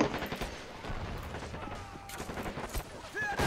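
Heavy machine gun fire and scattered gunshots crackle at moderate distance in the real-time strategy game Men of War, with a fairly steady rattle of rounds throughout.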